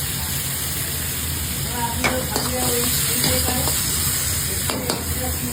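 Chicken sautéing with ginger-garlic, green chilies and tomato sauce in a pan: a steady sizzle under brief scraping stirs of a utensil, with someone speaking over the cooking.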